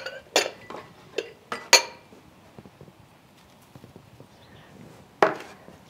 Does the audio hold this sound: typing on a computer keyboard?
no